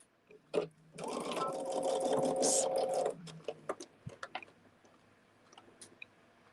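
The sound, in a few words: sewing machine chain sewing quilt blocks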